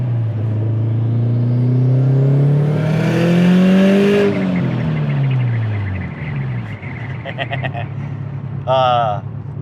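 A 450 WHP Subaru STI engine revs hard on a mountain road, climbing loudly in pitch through a gear then falling off as it lifts, with a brief voice near the end.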